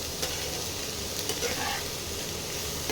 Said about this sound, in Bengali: এই পেঁয়াজটা একটু ভাজা ভাজা হবে